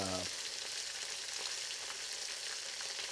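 Shrimp dredged in cornstarch fry in very hot canola oil in a wok, a steady dense sizzle filling the whole stretch, close and even, after a brief low hum at the very start.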